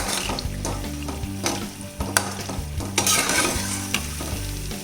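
Chakkarapara snacks fry in hot oil with a steady, dense sizzle and bubbling, punctuated by occasional clinks and stirring knocks throughout.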